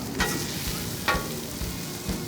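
Mushrooms tossed with garlic jalapeno rub sizzle on a Pit Boss griddle, a steady frying hiss broken by three short scraping stirs of a spatula, close and moderately loud.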